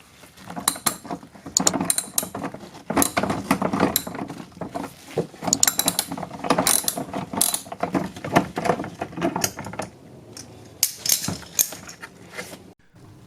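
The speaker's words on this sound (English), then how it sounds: "we're going to go ahead and remove this 10 millimeter bolt" Ratchet with a swivel socket and two extensions backing out a 10 mm angled bolt near the headlight of a 1999 Acura RL, a close run of rapid clicking ratchet strokes with short pauses between bursts.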